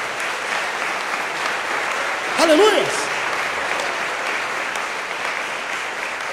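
Worshippers clapping in a Portuguese-speaking church service, a continuous even patter of applause while a voice briefly shouts in praise midway.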